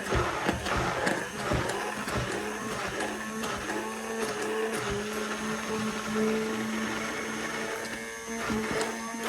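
An immersion blender whips cream with a steady, loud mechanical whir that shifts pitch slightly as the cream thickens, running continuously up close.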